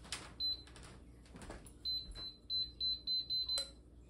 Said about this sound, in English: the beeping countdown was super easy to tell how much longer until it turned on